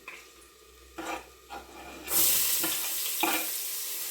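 Ginger, garlic and pepper fry in a pan for duck curry. A few stirring scrapes and knocks come first, then a loud, close sizzle bursts up and keeps going under further stirring.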